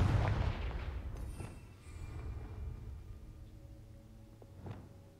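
A Confringo explosive spell cast in the Hogwarts Legacy video game, a heavy booming blast at the start that rumbles away, followed by a second, smaller impact near the end.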